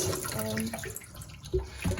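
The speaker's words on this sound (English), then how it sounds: "I'm a little bit horrified sometimes by the amount of water I'm using for this." Running tap water rinses developed 35mm or 120 film, a steady wash of splashing water with a voice speaking underneath.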